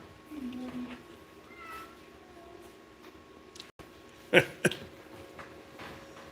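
A house cat meows a few times at moderate volume indoors, with someone talking around it in a garage setting and a brief sharp knock later.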